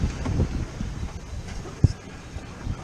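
Steady wind rushes and buffets across the microphone aboard a Nova 28 sailboat making about 6 knots in close to 20-knot winds under three reefs and a full genoa, with a brief sharp knock partway through.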